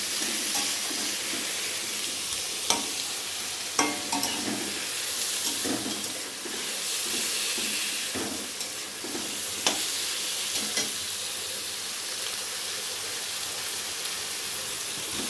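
Chicken and onions fry together in a pan, giving a steady close sizzle and hiss. A spatula scrapes and stirs now and then, making brief clatters over the frying, and no one speaks.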